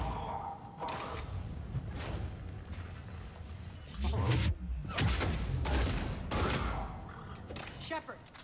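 A gun fires in the game Mass Effect 3 in several irregular bursts and single shots, some loud and booming, spread across a busy battle scene. Voices can be heard between and under the shots.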